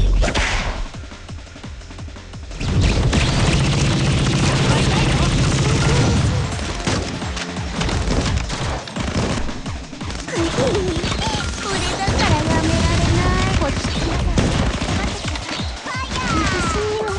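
Rapid continuous gunfire in the Blue Archive video game, loud bursts of shots and sharp impacts running steadily over layered music and effects.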